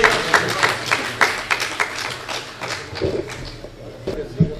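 Scattered, uneven hand claps from an audience at a felicitation ceremony, greeting a young lawyer being honoured. The claps are sharp and irregular rather than a dense roar, with some voices murmuring underneath.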